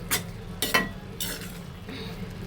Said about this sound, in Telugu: ఇలా కలిపేసి ఒక రెండు నిమిషాలు మూత పెట్టి లో ఫ్లేమ్లో ఉడికించుకుందాము